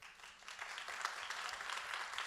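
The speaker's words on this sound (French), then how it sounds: "que vous pouvez applaudir mesdames, messieurs." Audience applause at a business-stage round table, a steady, fairly faint wash of many hands clapping with no one speaking over it.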